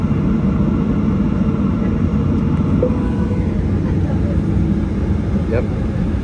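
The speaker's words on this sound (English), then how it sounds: "There must be another plane landing." Steady low cabin rumble inside an American Airlines passenger jet waiting while another plane lands nearby, a loud continuous engine drone with faint voices in the cabin.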